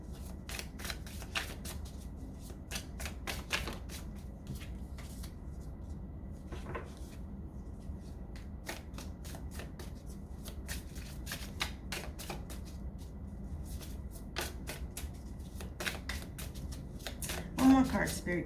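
Tarot cards shuffled for a reading, with repeated crisp riffling bursts and slaps in irregular clusters, close and clear, and a person talking quietly between the shuffles.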